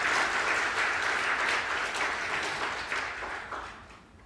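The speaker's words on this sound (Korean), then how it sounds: "박수 한번 해주시고요" A church congregation claps steadily at a Sunday service with dense, even applause that holds for several seconds and then begins to fade toward the end.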